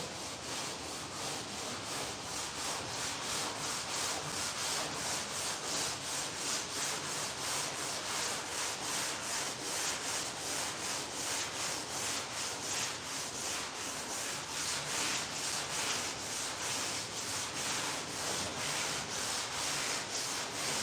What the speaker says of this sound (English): Here I am again using my packing blocks